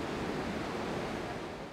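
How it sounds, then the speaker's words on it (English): Water released from the Oroville Dam spillway rushes as a steady, broad roar of torrent noise, continuous and even throughout with no voices. "That raging torrent is intentional."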